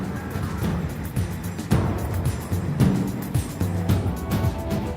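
A 2018 Range Rover Velar drives along a countryside road, its engine a steady low rumble with continuous road and tyre noise, a few louder surges rising and falling as it travels.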